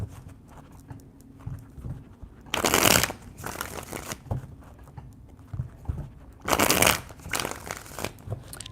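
Tarot cards are shuffled in two loud, close bursts of rapid riffling flutter, separated by quieter handling and soft rustles.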